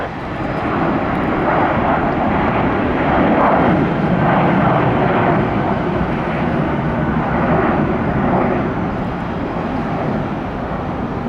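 An Airbus A319 jet climbs away from Tampa airport, a loud, steady roar of engine noise that swells slightly and holds throughout without any talk.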